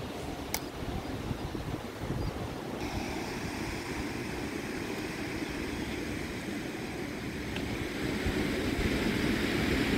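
Floodwater of the Kaveri river rushes steadily past the Wellesley bridge, a continuous loud roar with wind buffeting the microphone throughout and no voices.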